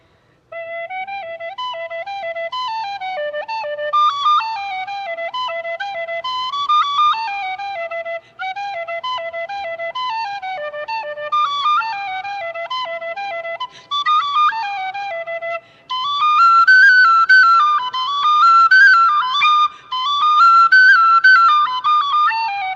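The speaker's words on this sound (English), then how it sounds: "for you to play a little bit on the whistle for us" A penny whistle plays a lively melody for about twenty seconds at a church service interlude, its bright, breathy tones clear and close, steady in level and moving in quick runs with short breaths between phrases, no talking over it.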